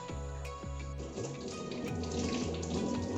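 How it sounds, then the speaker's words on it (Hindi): Tap water runs steadily into a sink during hand washing, a continuous close splashing stream with slight shifts in pitch as hands move under it, no talking. "चलो भाई अपने अब जल्दी से हाथ धो लेते हैं।"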